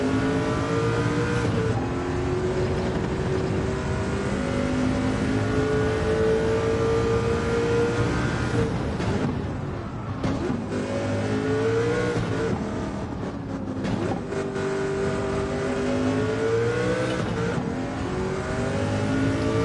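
A Sauber Mercedes C9 race car in Gran Turismo 7 roars continuously at high revs, the engine note climbing and dropping through gear changes and lifts for corners, loud and close with no talk.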